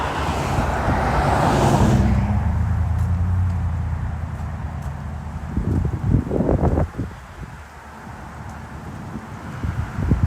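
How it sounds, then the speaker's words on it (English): Road traffic swells past a park on a fall walk, a broad rumble of cars with wind buffeting the microphone, loudest early on, then softer with a few rustling bursts midway. "We'll get away from these noisy cars."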